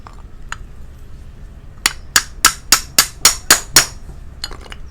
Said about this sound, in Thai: เดี๋ยวมาตอก เอาตัวบูธออกก่อนนะครับ